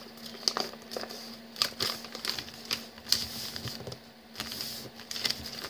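Crisp paper crinkling and rustling in short bursts as a sheet is folded for a paper airplane, close by, with a few sharper creases and pauses between movements.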